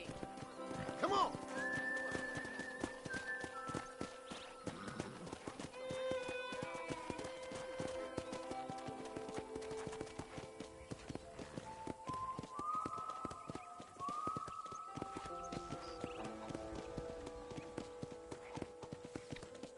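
Steady clip-clop of horse hooves running along in Red Dead Redemption, with tonal music and occasional voices layered over a continuous busy background.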